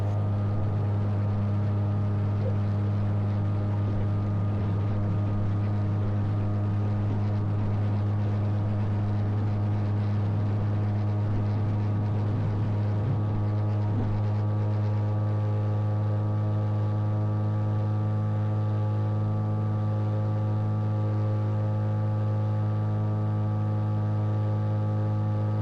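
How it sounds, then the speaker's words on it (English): The electric motor of a motor glider drives the propeller in flight, a steady loud hum with a strong low drone and airy wind noise, unchanging throughout. "I rely on an electric motor."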